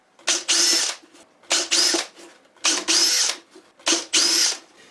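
A power drill drives short screws into wooden blocks aboard a wooden boat, giving four loud close bursts, each a quick rising whir followed by a strained grinding spin, separated by short pauses.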